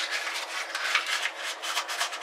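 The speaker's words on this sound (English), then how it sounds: "you can just roll up your sandpaper," Rolled-up sandpaper rubbing inside the end of a bicycle handlebar during prep for custom painting, a steady rasping scrape in short repeated back-and-forth strokes, close and alone.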